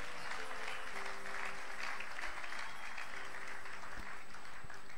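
A church congregation applauding at a Christian service, a dense, sustained wash of clapping that holds evenly throughout with no voices rising above it.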